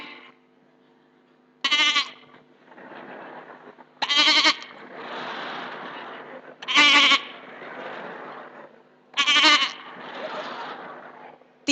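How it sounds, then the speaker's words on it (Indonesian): Goat bleating in loud, repeated calls, four sharp cries spaced a couple of seconds apart, each followed by a rougher trailing sound, heard close and alone. "Tidak boleh dipotong kambing yang bersuara seperti ini."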